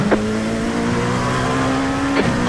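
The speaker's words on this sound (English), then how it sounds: "Faster car coming up quick." IMSA race cars at Long Beach in a racing sim, a loud steady engine drone with a sustained tonal whine and brief gear-shift blips near the start and end, no talk.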